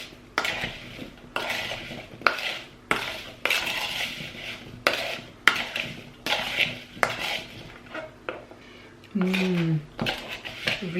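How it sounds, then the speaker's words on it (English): Sliced apples with cinnamon and juice are stirred in a bowl for a crumble, with a run of repeated clattering scrapes and knocks of a utensil against the bowl in short bursts, close and fairly loud. "And now we just give everything a big stir."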